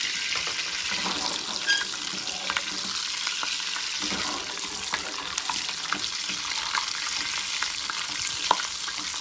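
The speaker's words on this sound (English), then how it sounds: "And I'm really starting to see the brown in there now. And we are looking at brown butter." Butter browning in a pot for duck breast and gnocchi, giving a steady, close frying sizzle with soft crackles and occasional stirring clinks, no talking.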